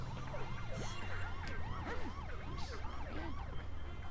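Wailing police siren from The Simpsons: Hit & Run video game, rising and falling in quick repeated sweeps over a low engine rumble, fairly close and steady.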